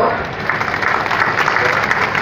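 Audience at an official government event applauding the guests, a dense, even patter of many hands clapping continuously throughout, fairly loud and close.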